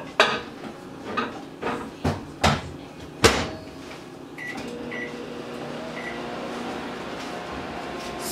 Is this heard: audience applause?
no